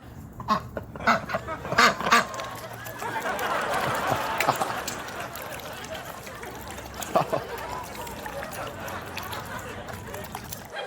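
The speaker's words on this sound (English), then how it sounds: "this YouTube video of ducks annihilating a bowl of peas" Ducks eagerly devour a bowl of peas, quacking and dabbling in a busy, close, steady clatter with a few louder quacks standing out.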